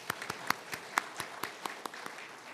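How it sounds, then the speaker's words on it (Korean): Sparse, quiet clapping from a church congregation at a Sunday afternoon praise service: about a dozen separate claps in an uneven rhythm, with no voices. "영화의 박수로 보여드리겠습니다."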